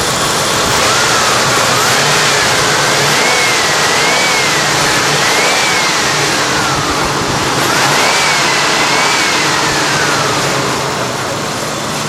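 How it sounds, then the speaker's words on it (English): A 1995 Ford Crown Victoria engine runs loud and steady at close range, its pitch rising and falling through several revs as the throttle is blipped, with a constant broadband roar behind it. "I can probably give this thing a few revs."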